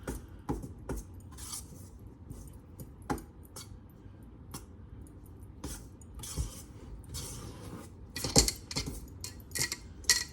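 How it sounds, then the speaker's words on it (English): A metal spoon stirs a yeast mixture into dough in a mixing bowl, making irregular clinks and scrapes against the bowl over about ten seconds, close by, with a busier cluster of knocks near the end and no talking. "So you're going to combine all that together and then stir in your yeast mixture as well."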